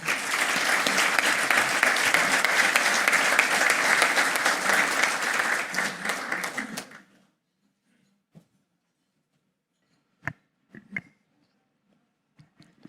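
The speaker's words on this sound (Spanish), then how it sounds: "quiero que recibamos con un fuerte aplauso a nuestro presidente Juan Carlos Ureta." An audience at a business event in Santiago, Chile applauds warmly for about seven seconds, then the clapping stops abruptly, leaving near silence with a few faint knocks and rustles.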